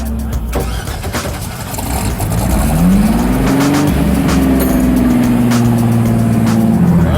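A 24 Hours of LeMons race car, a Datsun-based Rotsun, revs loudly up close, its engine note climbing and holding a steady high drone over rough mechanical rumble.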